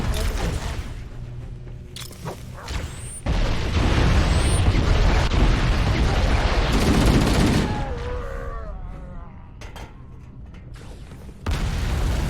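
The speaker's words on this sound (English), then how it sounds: "A few more sticky grenades make quick work of the next squad" Sticky grenade explosions and gunfire in Halo: Combat Evolved on the Pillar of Autumn level. A steady mix of shots gives way to a loud, sustained roar of blasts and firing, which then fades before a final burst of noise.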